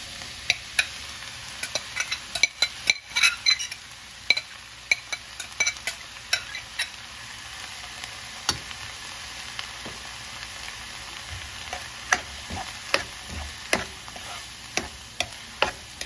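Tomato and chili are added to sautéed onion in a pan, making a steady close sizzle with scattered clinks and scrapes of stirring, and no one talks.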